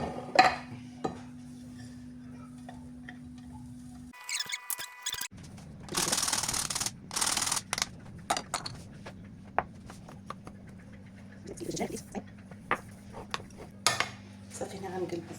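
Sfouf mixture of wheat flour and coarsely ground almonds being stirred in a pan: scattered clinks and scrapes of a utensil against metal, moderate and intermittent, with a steady low hum underneath.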